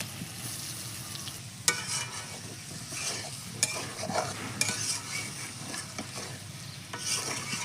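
Cauliflower and potato frying with tomato in spices, a steady sizzle under repeated stirring, with sharp clinks and scrapes of a utensil against the pan standing out now and then.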